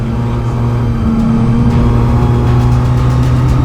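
Jaguar E-type race cars passing the pits at Goodwood make a loud, continuous engine drone with steady low tones and a slight rise, close by and heard alone.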